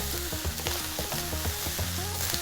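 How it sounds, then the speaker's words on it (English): Cabbage fried rice fries in a hot pan with a steady, busy sizzle, crackling and occasional scraping or stirring clatter. "That is actually your rice frying."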